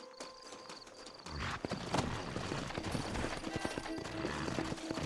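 Horse hooves clip-clop in a steady, busy rhythm, joined by a short whinny, with ambient game background noise throughout, in Red Dead Redemption.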